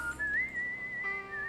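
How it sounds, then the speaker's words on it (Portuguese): A Sim character in The Sims 2 whistles a wavering, sliding melody, clear and fairly close, with faint game ambience underneath and no talking. "Olha ele assobiando,"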